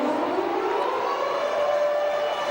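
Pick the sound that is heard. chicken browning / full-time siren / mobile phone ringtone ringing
full-time siren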